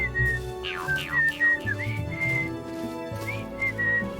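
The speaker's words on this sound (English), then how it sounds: "we can recognize that he's whistling the tune of the theme song of Paw Patrol" A cartoon character whistles the Paw Patrol theme tune in a clear, melodic line of short, bright phrases over soft background music, close and alone without speech.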